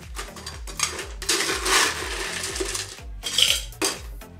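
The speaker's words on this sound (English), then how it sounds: "We're gonna put some ice into our cocktail shaker." Ice dropped into a cocktail shaker while a tiki drink is made, giving several sharp clattering knocks and rattles in uneven bursts, close and fairly loud.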